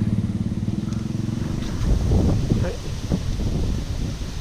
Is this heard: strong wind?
yes